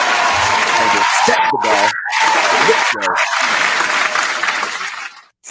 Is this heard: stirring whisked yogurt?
no